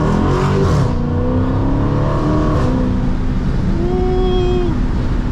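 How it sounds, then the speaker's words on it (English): A Dodge SRT 392 with a Borla ATAK exhaust roars loudly and close, the engine droning hard then rising in pitch as it revs up under heavy acceleration. "They got a Borla Atak exhaust on her."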